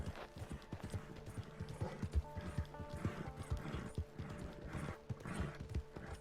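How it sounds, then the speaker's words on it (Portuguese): Rhythmic hoofbeats of several wild horses galloping in the video game Red Dead Redemption 2, steady clip-clop repeating throughout, with a faint mechanical hum underneath, fairly quiet overall. "Eita, quanto cavalo selvagem, mano."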